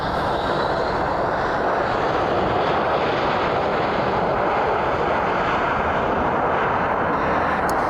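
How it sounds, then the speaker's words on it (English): A CRJ regional jet lands at Columbus John Glenn airport, its engine roar heard as a loud, steady, broadband rumble that holds throughout at a fair distance, with no talk. "CRJ landing now"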